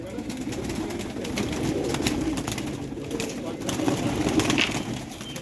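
Pigeons coo on a rooftop loft, a steady low murmur of several birds close by with a few brief chirps, while people talk over it throughout.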